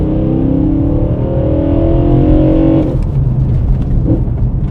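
BMW E92 M3 with its V8 engine breathing through an Eventuri carbon fiber plenum, loud and close. A rising, harmonic-rich intake roar climbs steadily for about three seconds, then drops off into a rough, burbling idle.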